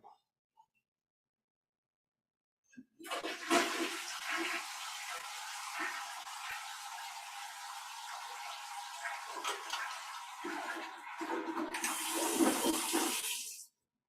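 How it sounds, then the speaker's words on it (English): A toilet flushes in one long, loud rush of water lasting about ten seconds, swelling again near the end before cutting off, with no talking over it. "flush the toilet"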